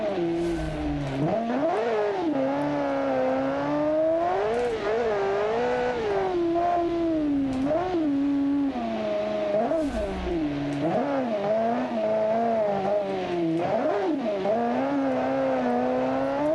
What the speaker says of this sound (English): Clutch kicking at like 1300 horsepower.